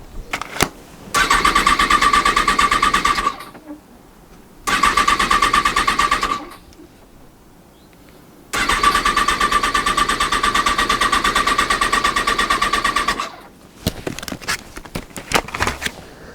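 First-generation Kawasaki ZX10R sport bike engine cranking and firing, running in two long loud bursts and one shorter one with pauses between, each ending in a sputtering cutout, up close with no talk.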